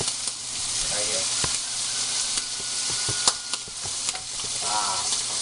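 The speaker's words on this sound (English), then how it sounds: "listen to that sizzle" Bacon sizzles steadily in a pan, a constant crackling hiss with occasional sharp pops and light clinks of a utensil.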